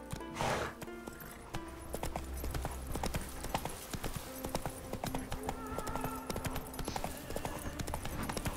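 A horse's hooves clip-clop steadily along a road in The Witcher 3, a brisk rhythmic beat set against game music and ambience throughout.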